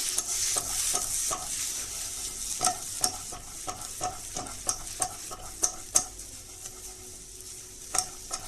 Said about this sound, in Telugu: టమాటాలు వేసుకొని జస్ట్ అలా టాస్ చేసుకుంటే